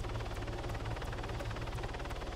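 Helicopter in the military game Arma, a loud continuous rotor thump and engine drone heard up close with a steady rhythmic chop throughout, no voices.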